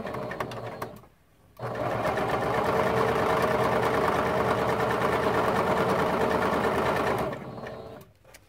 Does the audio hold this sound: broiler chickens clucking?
no